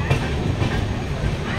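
Dhauli Express leaving Cuttack station: a continuous low rumble with faint clickety-clack of wheels on rails, heard from inside the coach.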